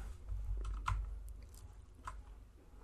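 Quiet computer keyboard typing while entering coordinates for a Desmos drawing, a few soft scattered key clicks over low room rumble.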